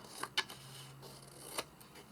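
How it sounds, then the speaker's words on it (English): Scissors trim paper in a few quick, sharp snips, close and quiet, with short clicks spaced irregularly over a faint background. "I'll just use scissors. Just going to trim these so that they're roughly the same size."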